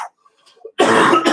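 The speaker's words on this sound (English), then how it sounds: "I can't get rid of this cough" A single harsh, rasping cough bursts out close to the microphone after a short quiet stretch of faint background noise.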